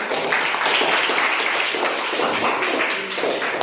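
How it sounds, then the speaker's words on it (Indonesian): Dense applause from a classroom of students at the end of a static electricity science lesson, a steady wash of many hands clapping together, loud and close throughout. "Sekali lagi tepuk tangan untuk kita semua."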